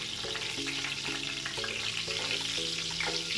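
Whole spices frying in oil for a chickpea and paneer biryani, a steady, continuous sizzle running throughout, with faint tonal background music layered over it.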